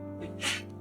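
One quick, soft sneeze bursts out over a low steady hum, close by but muffled.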